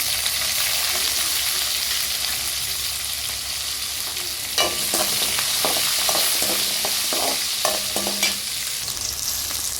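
Ginger and garlic fry in a pan with a constant loud sizzle, joined midway by a run of clattering spoon-against-pan stirring strokes close by.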